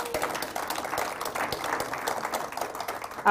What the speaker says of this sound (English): I think they deserve one last round of applause